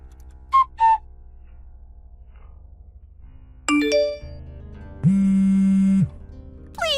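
Phone ringing with short electronic tones: two quick blips, then a brighter chime followed by a sustained buzzing tone about a second long, clear and alone against near silence.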